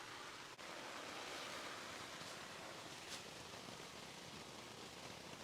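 Steady broadband hiss of water running continuously over a tent's fabric and ridgeline seams during a hose leak test, constant and fairly close with no talk.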